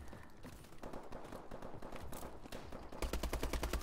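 Rapid automatic gunfire from Call of Duty: Advanced Warfare in online play, bursts crackling throughout and swelling into a loud, dense volley of sharp repeated shots near the end.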